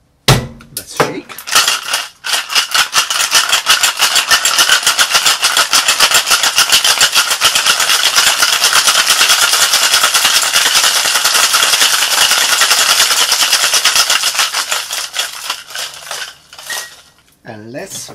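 Ice rattles hard and fast inside a cocktail shaker during a grapefruit cocktail's preparation, a loud, close, continuous clatter lasting many seconds before slowing to a few final knocks.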